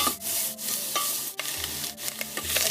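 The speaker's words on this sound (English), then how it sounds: "we're going to render the fat out of this, and that's going to brown our meat" Cubed, trimmed beef sizzles in a hot pan as fat renders and the meat browns, steady frying noise with repeated scraping and stirring strokes, close and fairly loud, no voices.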